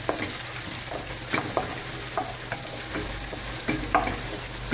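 Corned beef and onions sizzle loudly and evenly in a pan while a utensil stirs and scrapes through them in repeated short strokes.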